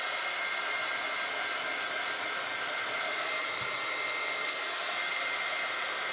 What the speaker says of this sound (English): I'm going to give it another quick heat set because that marker is not quite dry